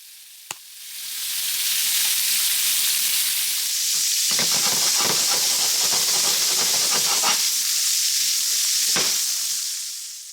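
Shrimp sear in a hot pan for shrimp and grits, a loud, steady frying sizzle and steam hiss with crackling bursts, sustained close up with no talk.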